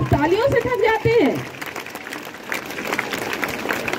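A school sports awards ceremony: a voice speaks briefly over a public address, then an audience gives soft, steady applause that continues to the end.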